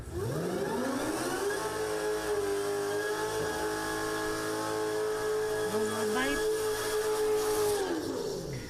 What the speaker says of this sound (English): That car scare you? It's loud.